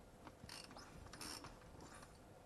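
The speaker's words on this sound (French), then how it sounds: "pourquoi je serre mes roues au cliquet?" A ratchet clicks in quick, faint bursts while tightening the wheel nuts on an HPI Savage RC monster truck.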